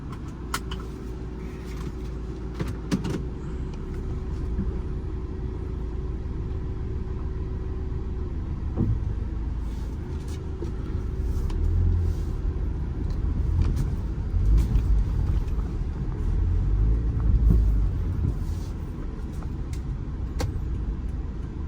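A 2008 Toyota Altis 1.8G automatic on a test drive, its steady low engine and road rumble droning continuously from inside the cabin, with occasional faint knocks and a brief sustained tone early on.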